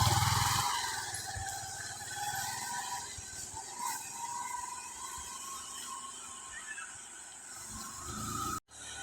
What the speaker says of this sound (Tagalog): So, lakas ng motor.